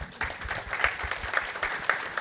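A small indoor audience gives a short burst of applause, steady, moderately loud and dense with clapping for the whole moment, with no voices over it.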